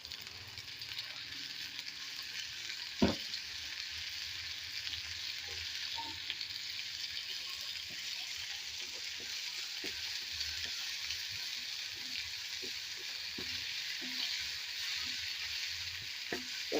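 Chopped onions with salt sizzling in a pan for a chickpea roast, a soft, steady frying hiss with faint scattered pops and one sharp clack, no talking.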